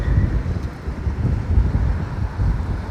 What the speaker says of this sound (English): Holy windy here, man.